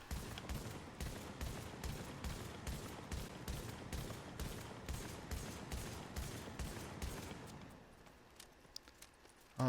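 A Striker shotgun fires in rapid succession in the video game The Division, with about seventeen evenly spaced shots over eight seconds and a quieter stretch after the last one.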